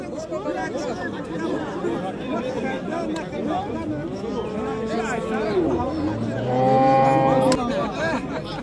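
Cattle at a livestock market low and moo repeatedly, with a loud, drawn-out moo near the end, over a constant background of crowd chatter and people talking.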